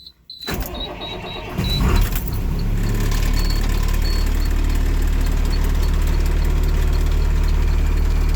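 A bus engine idles steadily and loudly while its power steering whines, with a faint intermittent high tone over the constant low rumble after a brief start-up surge.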